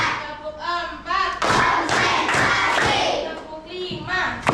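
Children in a classroom clap together in rhythmic bursts with heavy thumps, while young voices shout and chatter loudly over the clapping.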